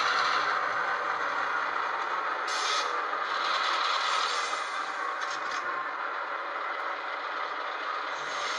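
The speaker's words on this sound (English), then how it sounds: "So maybe if I turn F9 off, the locomotive will start moving" An HO scale EMD SD7 model locomotive with sound effects starts to move, giving off a steady mechanical hiss and rumble with brief scraping or air-release bursts, moderately loud and without talk.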